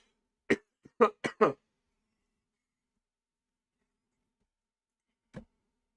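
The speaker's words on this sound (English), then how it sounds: "I'm gonna be coughing for the next like 3 weeks" A few short, dry coughs in a quick cluster, then a lone faint cough after a pause, set against silence.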